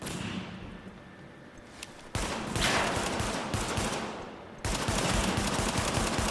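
Rapid automatic gunfire from another player in The Division, a dense crackle of shots that comes in bursts and grows louder after two abrupt jumps in level.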